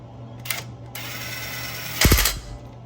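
A ratchet tightens a brake line bracket back into place during a Bilstein leveling kit install on a vehicle: short mechanical clicking bursts, a steady hiss behind them, then a louder ratcheting burst near the end, with no talk.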